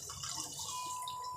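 Water pours into a kadai (wok) set on a gas stove, a thin trickling and dripping under a faint hiss that settles into a steady tone near the end.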